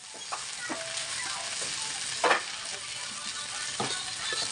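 Tortang talong (eggplant omelette) with giniling deep frying in hot oil, a steady close crackling sizzle with a few louder pops and spatters throughout.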